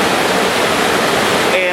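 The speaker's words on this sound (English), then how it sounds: "the reason I wanted to do the waterfall is because you might think it's silly, but there is more pressure" A waterfall pours down in a loud, steady rush of broadband white noise, pounding onto a Foursevens Preon 2 flashlight held under it, continuous and close for the whole stretch.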